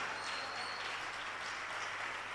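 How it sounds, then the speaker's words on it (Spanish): Church audience applause, a dense, even wash of many hands clapping at a moderate distance that holds steady from start to finish without a clear peak. "Un aplauso para Mari, en el nombre de Jesús."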